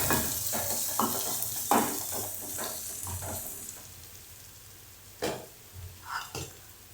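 Chili powder, turmeric and garam masala are stirred into paneer bhurji in a sizzling pan. Rhythmic scraping strokes sound up close, then thin out to a few sparse scrapes.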